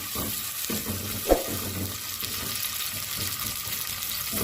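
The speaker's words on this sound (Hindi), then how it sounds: "हम प्याज को हल्का सा सौते करेंगे।" Onions sautéing in cooking oil in a pot, a steady soft sizzle with crackle running throughout, one sharp clink near the start, no voices.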